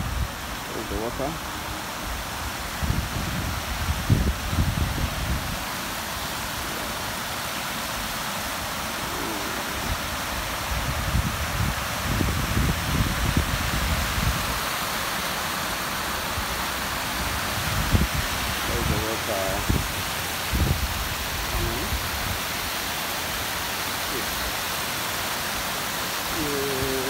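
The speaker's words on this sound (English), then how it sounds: "So this is the water flowing." Water flowing at a reservoir makes a constant broad rushing hiss throughout, with wind-like rumble and low thumps, while people talk intermittently over it.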